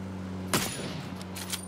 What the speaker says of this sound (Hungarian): Megy egy autós lövöldözés.